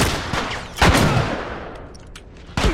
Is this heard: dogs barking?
no